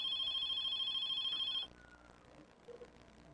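A telephone rings loudly with a bright electronic trill for about a second and a half, then stops abruptly, leaving quiet room noise.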